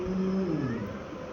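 A pet cat gives a single short, drawn-out meow that slides downward in pitch, heard close and clear with no talking.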